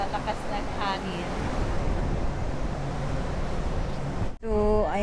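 Strong wind roars across the open deck 12 of the Royal Caribbean cruise ship Freedom of the Seas, buffeting the microphone in a loud, continuous rush. A voice is heard briefly at the start and end.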